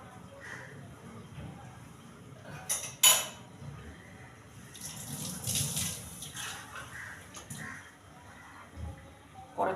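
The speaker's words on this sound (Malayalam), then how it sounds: "കുറച്ച് വെള്ളം കൂടി ഒഴിച്ചു കൊടുക്കുക അതിനകത്തേക്ക്." Water is poured into a cooking pot on a gas stove, with splashing and clattering of the pot and lid over a quiet kitchen background and sharp metallic clinks.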